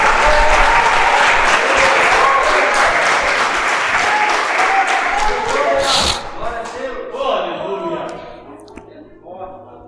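A church congregation bursts into loud, sustained applause during a sermon, dense clapping that fades after about six seconds as a preacher's voice comes through.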